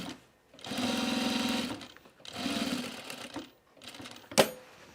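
A sewing machine stitches a fabric bag corner in two long, steady whirring runs with a short burst after, near and clear, then a brief clack, with no talk over it.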